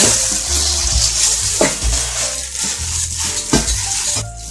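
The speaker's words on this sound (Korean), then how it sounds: "밑에 나물을 조금 깔고 하지 않게 가생이로 이렇게 쌀을 붓고" Raw rice is poured into a pot along its side over a layer of mulberry-leaf greens, giving a steady, close rustling hiss with a few small clicks and no talking.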